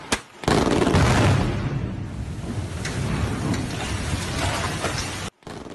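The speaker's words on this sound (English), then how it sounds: "That dam was detonated to discharge the floodwaters." Explosive detonation of a dam in China to release floodwaters, a heavy sustained roar and rumble with a rough crashing texture that holds for about five seconds before cutting off abruptly.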